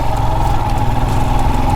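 Royal Enfield Himalayan motorcycle engine running steadily at close range while shifting to third gear, a constant loud throb with a droning mid-pitched tone and no clear break for the gear change.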